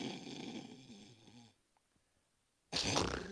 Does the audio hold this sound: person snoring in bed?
yes